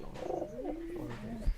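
A Rajshahi giribaz pigeon in a loft gives a soft, low, rolling coo, faint and brief, ending with a small thump.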